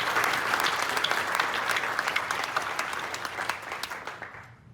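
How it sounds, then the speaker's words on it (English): Audience at a community awards evening gives a round of applause, a dense sustained clapping from a crowd that gradually thins into scattered claps and fades out. "Let's give another round of applause to the Chamber and all who helped make this happen."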